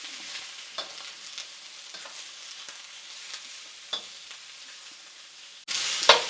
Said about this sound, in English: We'll stir that around a little bit.